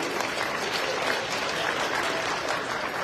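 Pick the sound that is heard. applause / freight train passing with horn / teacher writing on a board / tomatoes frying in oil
applause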